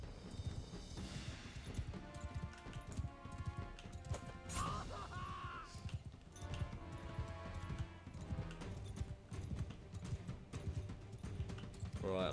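Horse hooves clip-clopping at a gallop in the medieval combat game Mount and Blade 2: Bannerlord, with the horse injured, running steadily under a dense mix of game noise, clashes and occasional voices.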